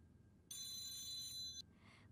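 A single short burst of an electronic telephone ring, bright and piercing, lasting about a second against a quiet room background.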